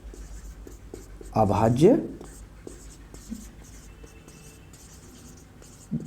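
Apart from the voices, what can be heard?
writing with a pen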